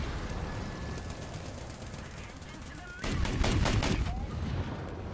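Rapid 40mm autocannon fire from a Stridsfordon 90C infantry fighting vehicle in War Thunder: a loud, close string of heavy shots that swells into a denser burst partway through, over steady engine rumble.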